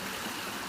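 Swollen, flooded creek rushing in a remote spot, a steady broadband wash of flowing water with no distinct splashes, heard alone at moderate level.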